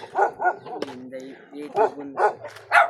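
A dog barks in a quick series of sharp yaps close by, mixed in with people talking over it throughout.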